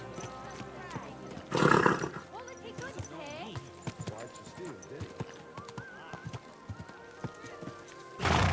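In Kingdom Come: Deliverance II, a horse's hooves clip-clop steadily and a loud whinny breaks in, with a voice talking over the hoofbeats and a second burst of noise at the end.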